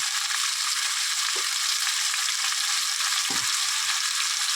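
Masala sizzles steadily in a pan as it is fried down for a fish dish with taro. The hiss is broad and constant, and a couple of faint stirring knocks sound close by.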